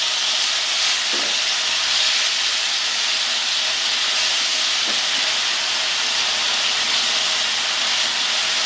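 Lote fish (Bombay duck) frying in a pan over a full gas flame, Bengali style: a loud, steady, close sizzling hiss that runs unbroken throughout, with no talking.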